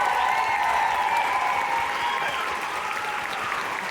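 Audience applause fills a symphonic band concert hall, a dense, steady wash of clapping from many hands that holds loud and even throughout, with faint crowd murmur beneath.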